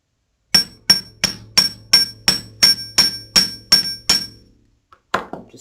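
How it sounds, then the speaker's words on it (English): A metal hammer taps the tip of a wire-woven pendant about a dozen times at a steady quick pace, each strike ringing briefly, close and loud, followed by a pause and a couple of softer knocks. "I'm just going to hammer that tip right there."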